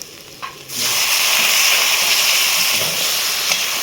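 Mutton frying in a pan with turmeric, cumin, coriander and Kashmiri red chilli powder plus a splash of water: a soft clink, then a loud, steady sizzle that starts abruptly and hisses on without a break.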